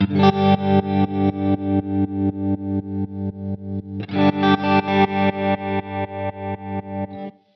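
A distorted electric guitar chord pulses rhythmically through a Line 6 Helix tremolo effect with a saw-up wave, each swell rising then cutting off sharply, evenly repeating; the chord shifts higher midway, then stops.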